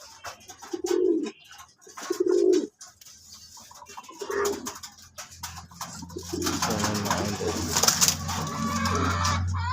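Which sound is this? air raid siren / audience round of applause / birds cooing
birds cooing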